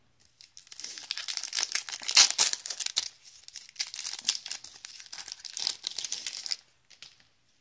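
An Upper Deck Black Diamond 2012-13 hockey card pack is opened up close: its foil wrapper crinkles and tears in dense, crackly bursts that run almost nonstop for several seconds, then stop. No one speaks.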